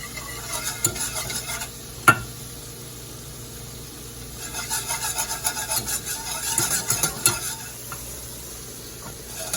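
A whisk stirs cornstarch into melted butter in a pan, giving a steady, close scraping and swishing rhythm over a soft sizzle, with one sharp clink of metal against the pan.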